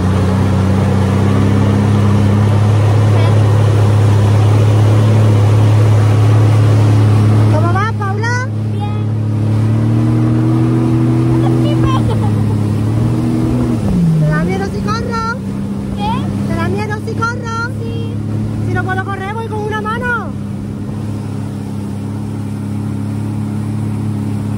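Motorbike engine on a beach, running as a steady loud drone under people talking, with its pitch shifting partway through as it pulls away.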